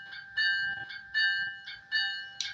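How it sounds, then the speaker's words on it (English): A model-railroad F40PH locomotive's bell rings steadily at close range, its metallic clangs repeating about every 0.8 seconds, clear and alone with no talking. "But they've got the right bell"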